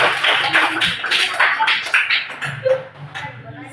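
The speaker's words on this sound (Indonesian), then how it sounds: "Sekali lagi beri tepuk tangan." Students in a classroom clapping hands in a rapid, uneven burst of applause that tapers off, with voices talking in the background.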